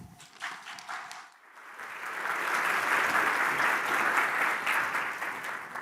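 A conference audience at a professional association's annual meeting breaks into applause, a dense steady wash of clapping that swells after a brief introduction and holds loud for several seconds before easing.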